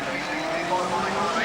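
Water-cooled Volkswagen Golf race cars launch at a drag race semi-final, engines roaring and revving with a rising whine and some tire noise, fairly close, with a commentator talking over it.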